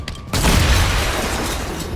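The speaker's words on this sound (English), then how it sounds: "now what we do, we can take a shot at the bomb" A bomb shot and detonated in the tactical game XCOM: Chimera Squad, a loud booming blast that bursts in suddenly after a brief quiet lead-in and rumbles on with a sustained, roaring tail.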